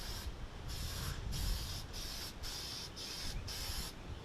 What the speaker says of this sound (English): really won't create any issues here for spraying the toner lacquers